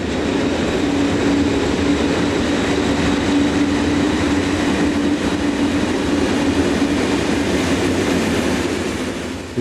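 An SBB Re 6/6 electric locomotive hauls a heavy oil train eastward, a steady loud rumble of wheels and wagons rolling past close by with a sustained tonal hum, continuous through the whole stretch.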